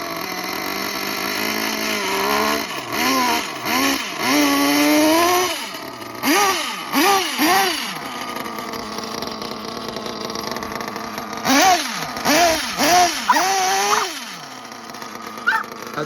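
A nitro-powered OS-engined RC car idles with a buzzy, wavering drone, its pitch repeatedly rising and dipping in short revving swells while the engine runs steadily throughout, with no talking.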